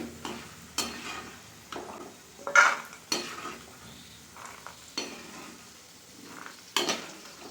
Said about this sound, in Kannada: ಈ ಥರ ಹುರ್ಕೊಳ್ಳಿ. ಕಡಲೆಕಾಯಿ ಬೀಜ ಇಷ್ಟು ಹುರಿದಿರೋ ಸಾಕು.